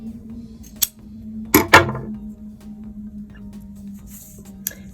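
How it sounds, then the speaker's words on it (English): Scissors trim fabric yarn ends close to the thread on a crocheted headband, a few crisp close snips, two in quick succession, over a faint steady hum. "We'll trim the thread first, and then you can trim both of these off as close as you can get to the thread"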